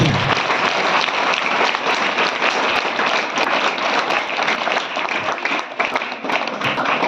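Applause for a police sub-inspector at a parents' meeting in a high school, dense steady clapping from a sizeable audience, loud and continuous, with a faint voice or two underneath.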